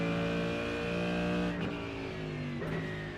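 A Mercedes GT3 race car in iRacing revs hard, its engine note climbing and holding strong with shifts partway through, loud and steady throughout with no talk.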